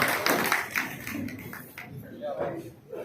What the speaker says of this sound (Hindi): सर का जोरदार तालियों के साथ हम स्वागत करेंगे।